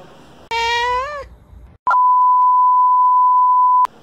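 A cat meows once, close and clear, a rising then falling cry in the rain, followed after a short pause by a long steady electronic beep that ends abruptly.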